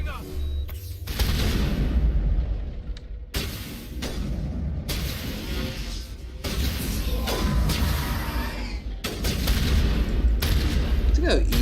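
Rapid gunfire from a sci-fi shooter, Mass Effect 3, during combat against husks, sounding as loud repeated bursts and sustained volleys across the clip, with a voice talking over parts of the action.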